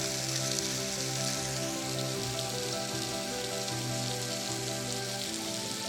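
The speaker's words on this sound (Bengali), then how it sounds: "এখান থেকে আমরা দেখতেছি এরা পানিটা পড়তেছে" Water pours continuously at Paradise Falls, a dense, even rushing roar heard close, with a steady low hum running underneath.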